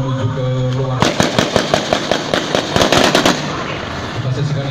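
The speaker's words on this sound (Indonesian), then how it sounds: "inilah gaya seorang teroris yang membabi buta mengeluarkan tembakan" Rapid bursts of gunfire from a police counter-terrorism simulation ring out in loud, uneven volleys, with sharp cracks repeating for about two seconds before fading back into a steady background rumble.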